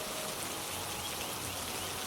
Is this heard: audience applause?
no